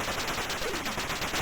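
Enemy fire in the Atari ST game Resolution 101: a steady run of rapid, evenly spaced electronic gunshot bursts at a constant level, with no talking.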